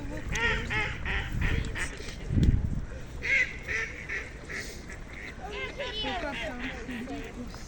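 Ducks and geese on the water at a central city beach in Poltava honk and quack repeatedly, near and busy, while people talk over the birds.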